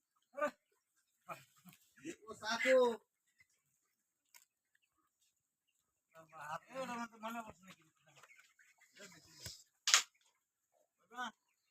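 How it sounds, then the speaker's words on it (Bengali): Chickens on a poultry farm in Mymensingh let out scattered, fairly quiet clucks and calls in short bursts, separated by near silence, with some soft murmuring voices. "মুরগি যে ডাক দেয় যে ঠান্ডা লাগছে।"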